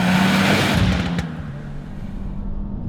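A 2024 Subaru WRX TR revs hard on a test track, a loud, steady engine drone in the first second that cuts sharply and drops to a lower, rougher hum, heard up close with no talk.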